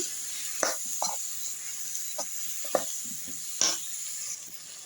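Chopped tomato pieces frying in a pan with capsicum, a soft steady sizzle underneath, broken by several sharp clinks and scrapes of a spoon stirring.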